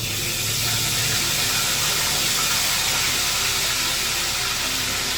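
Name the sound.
frying soaked ingredients in a little oil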